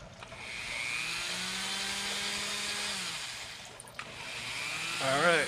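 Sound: Dremel rotary tool sanding wood with sandpaper

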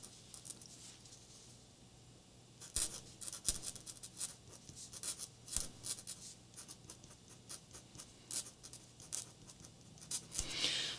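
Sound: writing with Posca extra fine paint pen on cardstock

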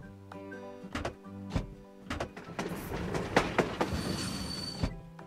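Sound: cartoon train running on rails

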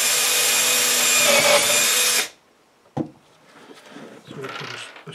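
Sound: screws being driven into the air distribution system with a power drill

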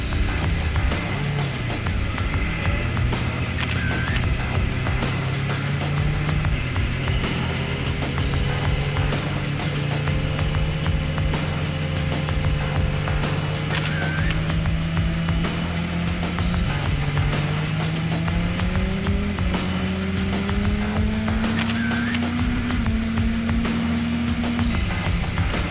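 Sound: street tracker motorcycle riding on race track

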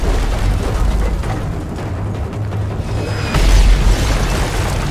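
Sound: mortar fire explosion in video game Call of Duty Modern Warfare 3

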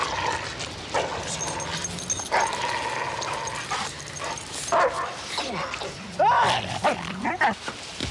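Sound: dog attacking, growling and barking

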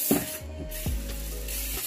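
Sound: spraying down a tub

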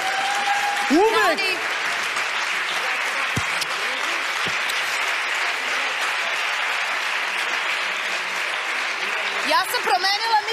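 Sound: audience applause for Vuk Mob

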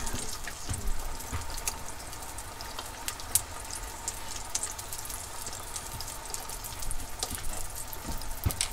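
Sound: washing hands under running tap water

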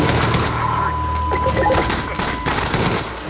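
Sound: gunfire in the video game Garry's Mod

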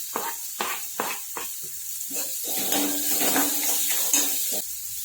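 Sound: green chillies sizzling in tempering oil in a pan

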